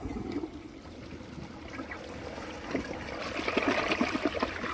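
Water trickles and splashes as a 2007 Gerber Allerton toilet tank refills, a close, steady hiss and gurgle that grows louder and busier toward the end, with no talk.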